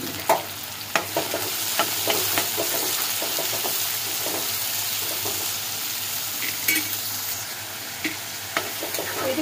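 Green chilies and onion frying in hot oil after ginger-garlic paste and turmeric, a continuous close sizzle with irregular utensil clinks and stirring scrapes against the pan, no voices.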